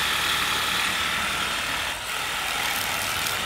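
A WORX Hydroshot portable cordless power washer sprays steadily on its 15 degree nozzle setting, fed from an attached jerry can, giving a constant loud hissing water rush with a brief dip midway and no voices.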